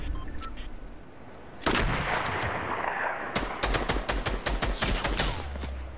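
Video game gunfire on a mountain map, with a few sharp isolated shots, a loud crack of sniper fire, then a dense volley of rapid close rounds crackling in quick succession.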